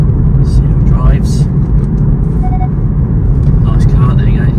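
A 2018 Kia Proceed 1.6 CRDI GT-Line shooting brake diesel cruises on an open road, its steady engine and tyre rumble a constant low drone while someone talks over it.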